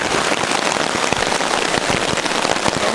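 Rain patters steadily on a hammock tarp at a campsite, a dense, continuous drumming close overhead with scattered sharper drops and no talk.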